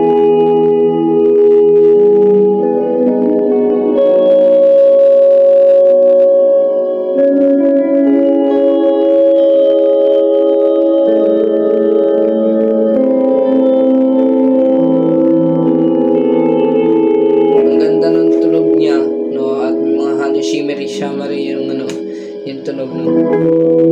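An electric guitar played through a Mooer Yellow Compressor and a Caline Clear Boost, with reverb and delay added: slow, sustained clean notes and chords that ring out and overlap, loud and alone.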